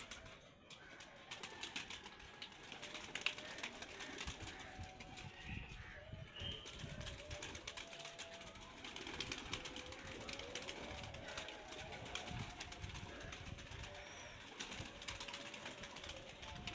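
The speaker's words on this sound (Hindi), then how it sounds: "मैंने कबूतरों को खोला हुआ है, इनको दाना वगैरह डाल रहा हूँ। मेरे पास 20-25 कबूतर हैं" Some 20-25 pigeons let loose on a rooftop while being fed grain, giving faint, low cooing and soft wing sounds over steady outdoor background noise, with no voices.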